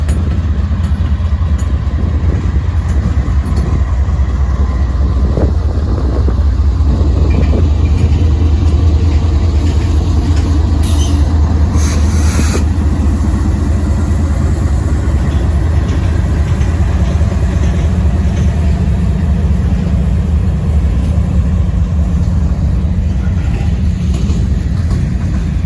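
A long, slow-moving freight train rolls along the tracks, a steady close rumble of wheels and cars with a few brief metallic squeals partway through and no talking.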